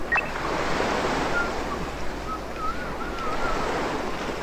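Ocean waves in the game Wadanohara wash in a continuous, moderately loud, windy surf, with faint tonal chimes over it and no talking.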